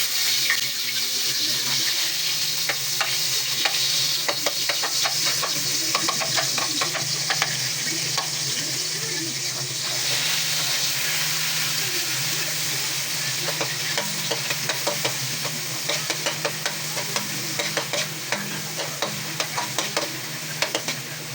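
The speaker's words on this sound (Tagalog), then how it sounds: "Igigisa natin to mga paps. Lagyan natin ng kamatis na may lagyan dito sa sardinas." Saluyot leaves sautéed with tomato and canned sardines sizzle steadily in a pan, with frequent scraping and stirring clatter throughout and a watery, bubbling hiss underneath, no voices.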